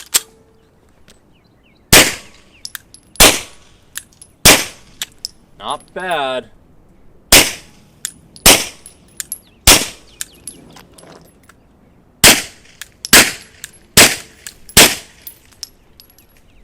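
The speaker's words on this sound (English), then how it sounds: "Now I can hear a little bit of gunshot sound, and mostly it's reflecting off of the back." Suppressed 9mm subsonic rounds from a subcompact pistol fitted with an OSS RAD 9 suppressor at an outdoor range: about a dozen sharp, close pops in quick clusters, with a brief spoken remark between them.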